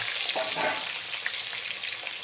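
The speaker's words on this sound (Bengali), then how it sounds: "আলুটা একটু লাল করে ভাজতে হবে" Potatoes frying in a pan until lightly reddened, for a Bengali fish kaliya, giving a dense, continuous, close sizzle with faint stirring and no talking.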